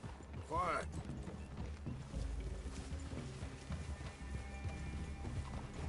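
Horse hooves clip-clop in Red Dead Redemption 2, an uneven run of soft thuds under game ambience, with a horse snort or whinny near the start and low voices talking over the scene.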